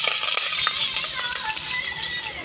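Urad dal and chana dal fry with ginger and garlic in hot oil for lemon rice, giving a steady, close, bright sizzle broken by light stirring scrapes.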